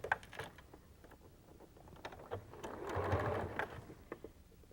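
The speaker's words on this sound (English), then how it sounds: "We'll bring it over here and sew it." A sewing machine stitches quilt pieces together in quick mechanical bursts of rapid ticking, quiet and close, swelling briefly into a steadier run midway before slowing again, with no talking.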